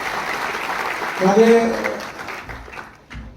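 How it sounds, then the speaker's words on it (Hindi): Audience clapping rises under a man's speech at a welcoming ceremony for a university vice-chancellor, swelling briefly, then fading as talk continues. "इनके लिए भी तालियां आप जरूर जाएं।"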